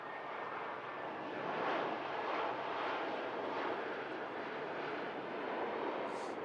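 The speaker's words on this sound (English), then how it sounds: "An EasyJet Neo arriving in from Copenhagen" An easyJet Airbus neo airliner arriving at Manchester Airport from Copenhagen makes a continuous jet engine rush that swells slightly early on and then stays steady, moderately distant, with no one talking.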